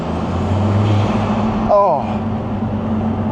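A 2025 Lotus Emira Turbo SE rumbles along from inside the cabin, a short rising turbo whoosh and whistle flaring briefly midway over the steady engine drone, with a brief spoken exclamation.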